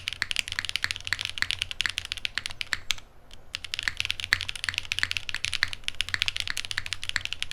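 Fast typing on an old mechanical keyboard, with crisp close key clicks in quick irregular bursts and a brief pause partway through, no voices.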